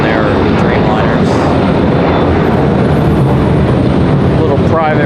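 A private plane taking off at RDU airport gives a loud, continuous engine roar with a rough, rumbling texture, close and sustained for the whole stretch. Voices can be heard faintly underneath.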